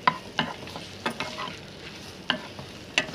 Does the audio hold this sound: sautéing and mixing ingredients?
yes